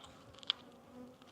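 Faint, close buzzing of honey bees at a hive, a soft steady insect drone with one brief louder buzz.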